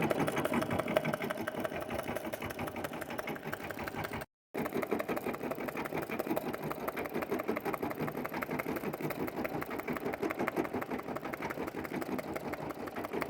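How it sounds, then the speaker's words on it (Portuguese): An embroidery machine stitches a heart design onto pearlescent paper, its needle hammering in a fast, steady mechanical rhythm that keeps running except for one brief cutout. "Eu vou deixar a máquina aqui bordando"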